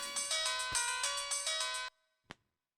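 A mobile phone ringtone chimes in a bright repeating melodic pattern for under two seconds, then stops, followed by a single short tap; fairly quiet and close, no talk.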